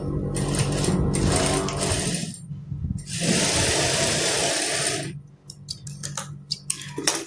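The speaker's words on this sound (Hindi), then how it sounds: "ऐसे इसके ऊपर रख के और सिलाई लगा देंगे।" Sewing machine stitching a cotton kurti, running in two long steady loud bursts with a short pause between, followed by lighter clicks and handling taps near the machine.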